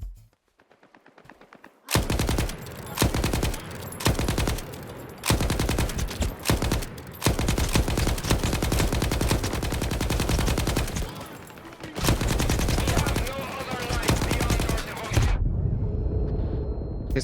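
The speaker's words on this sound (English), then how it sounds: "It's a PKM. Looks like one. It sounds like one." Long bursts of PKM machine gun fire, labelled the RPM 74, in the video game S.T.A.L.K.E.R. 2: Heart of Chornobyl. After a short quiet lead-in the fire runs loud and near in sustained rattling strings, broken by a few brief pauses.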